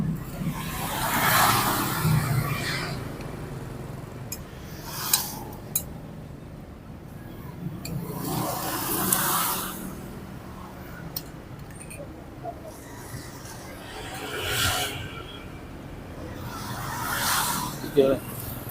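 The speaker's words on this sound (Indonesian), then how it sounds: "Banyak motor sama mobil yang lewat." Cars and motorbikes pass on the road beside a roadside street-food stall, rising and fading in several separate whooshes, some near and fairly loud. Dishes clink faintly and people talk in between.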